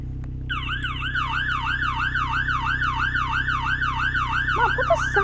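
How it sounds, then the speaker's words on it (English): A loud, wailing police car siren sweeps up and down continuously and steadily, close by, over a low engine hum, with a brief clatter near the end. "put the sirens off!"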